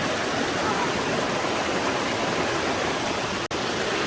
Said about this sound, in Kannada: ಸೊ ಇವಾಗ ನಾವು ಫಾಲ್ಸ್ ಹತ್ರ ಬಂದು ರೀಚ್ ಆದ್ವಿ.